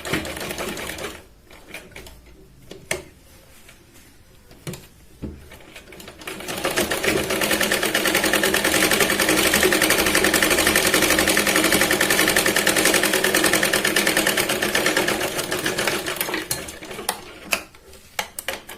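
A sewing machine stitching a strip for a katori blouse: a few scattered clicks and handling noises, then a long steady mechanical whir of continuous stitching, close up, tapering off with more clicks at the end.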